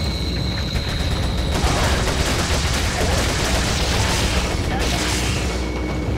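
Dense gunfire and booming blasts in Resident Evil 4, a constant loud clatter of shots and mechanical noise without pause, with faint voices buried in the din.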